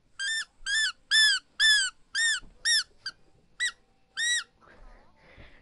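Repeated high-pitched squeaks from a dog's rubber squeak toy, about nine sharp squeezes in an uneven rhythm, close and loud, followed by softer rustling.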